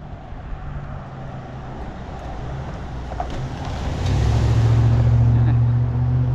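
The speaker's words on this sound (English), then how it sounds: "A lot of cars coming down this street." Cars drive down a residential street, a passing vehicle building from a distant hum to a loud, close rumble that swells near the end.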